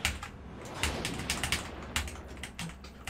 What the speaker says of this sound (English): Why are you slapping on the keyboard?